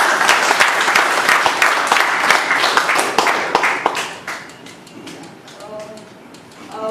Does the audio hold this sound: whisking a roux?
no